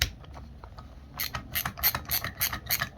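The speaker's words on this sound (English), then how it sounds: "Tighten the nut back up here." A nut being tightened on a Honda ATV recoil starter: faint fiddling noises at first, then a quick series of five or six close, rhythmic ratcheting clicks and rasps.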